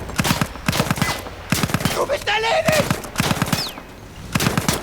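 Rifle and submachine-gun fire in the video game Battlefield 1, repeated rapid bursts of close, sharp shots with short gaps between them and brief voices in the middle.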